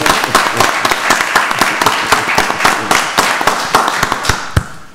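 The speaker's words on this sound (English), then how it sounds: "Can we give Commissioner Williams a round of applause?" Round of applause breaking out at a county board of commissioners meeting in Rockdale County, a dense crowd of rapid overlapping claps held steadily throughout, ending with one sharp, louder clap.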